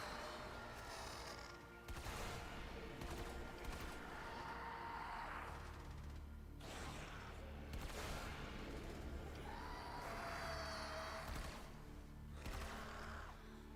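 Warframe weapons fire in quiet, scattered bursts: several clustered volleys of sharp shots, with faint whooshing and whining effects between them, all at low volume and without clear speech.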